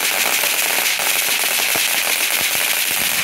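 Fourth of July fireworks crackle and pop in a dense, loud, continuous barrage of sharp snaps, close by.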